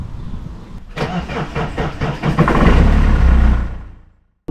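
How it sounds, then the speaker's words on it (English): A 2006 BMW 120D E87 diesel with a weak battery cranks slowly, a close, loud, labored rhythmic churning that builds, catches briefly, then cuts off. "As you can hear, it's really slow to turn over."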